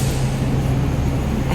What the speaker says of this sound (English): I'm walking by a big truck.